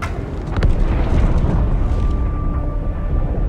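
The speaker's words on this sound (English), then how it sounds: "That explosion came from inside the Athens." A big explosion in the video game Halo 2: Anniversary, a deep rumbling blast with a sharp burst near the start that rolls on as a loud, sustained low roar, with no speech.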